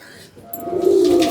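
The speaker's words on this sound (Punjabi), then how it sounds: "ਮੈਂ ਦੇਖ ਰਹੀ ਹਾਂ ਇਹ ਗ੍ਰੇ ਵਾਲਾ ਕਿਹੜਾ ਕਬੂਤਰ ਹੈ" A grey pigeon coos softly nearby, a low rounded call swelling in the second half with faint rustling around it.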